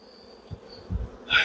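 Honey bees buzz around an opened hive, with a thin continuous drone under a few low knocks and frame handling noises, ending in a brief louder rustle, with no talking.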